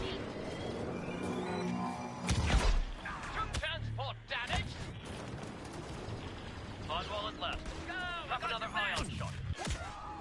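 Frag grenade going off in Star Wars Battlefront 2 multiplayer, a heavy boom standing out amid steady gunfire and battle noise, with a player talking throughout.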